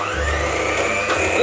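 Electric mixer whisking sugar into sponge cake batter, a steady close whirring drone with a slight change in pitch near the end, no talk.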